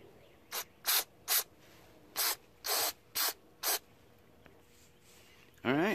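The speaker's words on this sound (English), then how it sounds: "Almost use a whole can of carb cleaner on here" Carb cleaner sprayed in seven short hissing bursts onto a riding mower carburetor, close and loud with brief gaps between them, then a final longer spray at the end.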